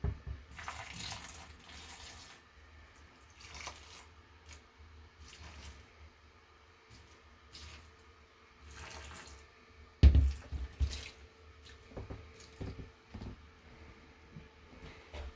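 Tap water runs into a bathtub to water indoor potted plants, coming in uneven bursts of flow and splashing with short pauses between. A louder gush comes near the end, close by and without talk.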